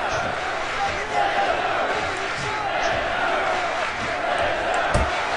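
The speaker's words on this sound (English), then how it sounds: "The crowd showing their support for Brock Lesnar." Arena crowd in the UFC Undisputed 3 video game roaring and cheering steadily for a Brock Lesnar fight, a dense continuous wash with commentary voices talking over it.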